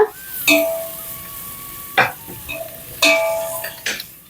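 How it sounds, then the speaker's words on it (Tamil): Stock cubes are stirred into chicken noodle sauce in a pan, giving scattered utensil scrapes and clinks against the pan over a faint sizzle, close and with no talking. "இந்த கியூப்ஸ் நல்லா கரையிற அளவுக்கு நல்லா மிக்ஸ் பண்ணிக்கோங்க"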